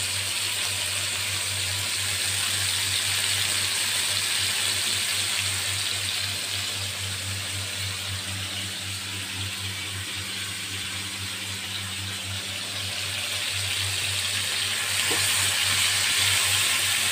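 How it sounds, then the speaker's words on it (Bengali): Shrimp sizzle as they fry gently in a hot pan for a Bengali potoler dorma dish, a steady hiss of bubbling oil running close and even throughout, with a low constant hum beneath and no talking. "চিংড়ি মাছগুলো আমার ভাজা হচ্ছে।"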